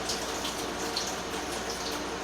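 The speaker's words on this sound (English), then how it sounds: "But be very careful when you're rinsing the rice" Tap water runs and splashes over rice being rinsed in a kitchen, a close, steady watery rush with small spattering droplets throughout, no voices.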